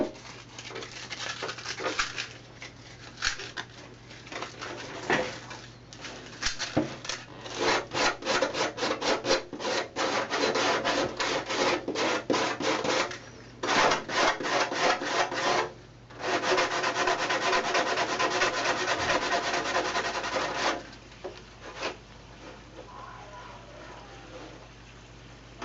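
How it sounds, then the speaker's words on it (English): Light hand sanding of a cut wheel opening on a clear Lexan RC car body, steady scratchy back-and-forth strokes close up, repeated in bursts with short pauses. "Give it a light sanding."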